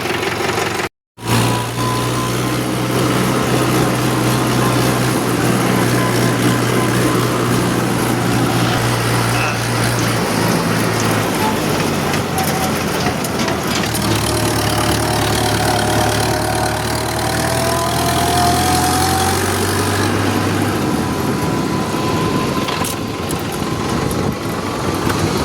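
A Swaraj 841 tractor engine runs steadily close by on a farm, a loud continuous low rumble with a brief cut near the start and a slight change in pitch partway through.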